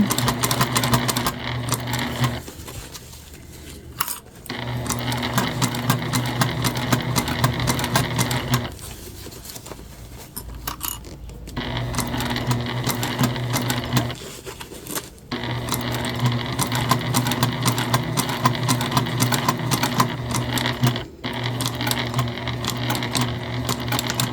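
A sewing machine stitching the bottom seam of a Trailblazer convertible bag through a single layer, running in steady buzzing bursts of several seconds each, separated by short pauses.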